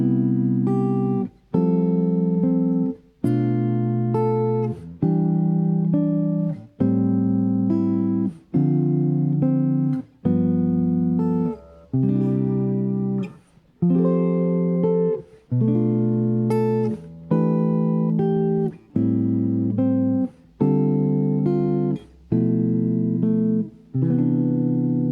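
Guitar chord etude moving through a diatonic cycle of fourths, steady strummed chords roughly every one to two seconds with brief gaps between, played solo and clear throughout.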